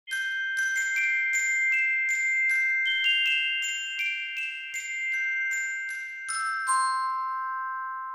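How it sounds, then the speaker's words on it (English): Bright glockenspiel notes from a virtual orchestra instrument ring out in a quick, even melody, each metallic strike sparkling and overlapping before a last pair of tones rings and fades. "Glockenspiel."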